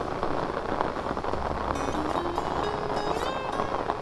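Rain arrives over a village in the Sundarbans as a steady, broadband patter and rush of falling water. Faint tonal calls or distant voices drift over the constant wash of rain.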